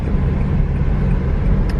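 A Honda Brio car climbs a steep, extreme road toward Tangkuban Perahu near Bandung, with a loud, close, steady engine and road rumble throughout.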